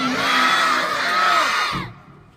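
Large crowd at an Islamic religious gathering answering a takbir call in unison, a loud sustained chorus of voices rising together and cutting off abruptly after about two seconds.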